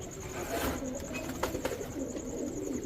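Pakistani teddy pigeons coo softly amid a constant background hiss, with faint scattered clicks and no voices.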